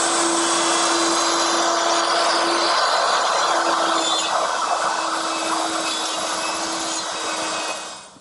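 A power tool runs steadily as it cuts pins in the side of a secretary desk mounted in a jig, a loud continuous whine holding for about seven seconds before winding down at the end.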